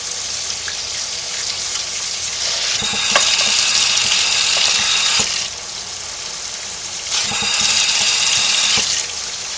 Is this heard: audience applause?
no